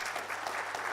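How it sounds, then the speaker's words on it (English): Audience applause for the facilitator at the 2017 UJ MISTRA annual lecture, a brief, steady burst of moderately loud crowd clapping heard alone. "a round of applause to our very able facilitator"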